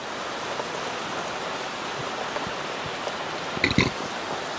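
Steady rain falling all day outdoors, a constant even hiss of drops with a few louder nearby spatters near the end.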